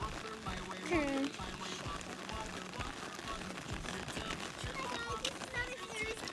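Rain falling during an outdoor walk, a soft, faint patter spread evenly through the scene, with people talking and a bird calling.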